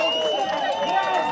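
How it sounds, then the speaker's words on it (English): Football crowd at a Farnham Town versus Jersey Bulls season-opening match roaring after an equalising goal, a dense sustained cheer heard from within the stands. "Just listen to the crowd."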